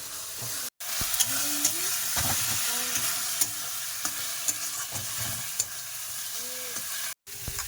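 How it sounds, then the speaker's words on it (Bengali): Spice paste is stirred and fried in a pan with a steady close sizzle, and a utensil scrapes and clinks against the pan at irregular intervals. No one speaks. "মশলাটা এখন কষাই করতেছি আর এবারে কিন্তু আমি দিয়ে দেব কেটে রাখা টমেটো"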